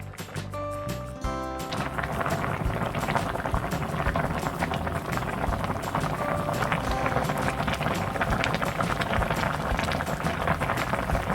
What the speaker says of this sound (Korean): 만두 전골은 만두가 익을 때까지 끓이시면 돼요.